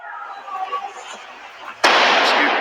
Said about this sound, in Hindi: ये देखो आप पटाखे की आवाज आप सुन रहे हो